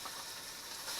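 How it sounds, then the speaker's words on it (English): About 1.5 pounds of beef stew meat sizzles in olive oil in a pot, giving a steady, close crackling hiss that holds evenly throughout. "Oh yeah, don't you love that sizzle?"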